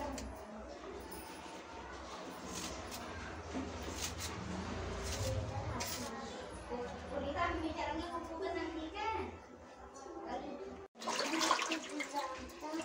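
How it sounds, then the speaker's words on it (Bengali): Running water pours steadily over cut potatoes being washed in a kitchen, a continuous splashing rush with a brief break near the end before it resumes. "আলুগুলো আমি ধুয়ে তুলে নিচ্ছি।"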